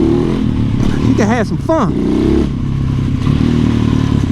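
A lightweight motorcycle doing wheelies in an industrial area gives a few quick rising and falling revs over a rough idle and road noise, while someone talks over it.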